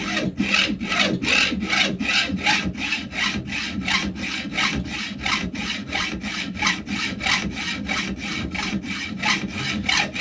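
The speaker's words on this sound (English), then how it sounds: "take this big old hacksaw, and I'm just going to cut it right there" A big hacksaw cuts through a clamp extension piece held in a vise, steady rhythmic back-and-forth rasping strokes, about twenty in ten seconds, loud and close with no talk.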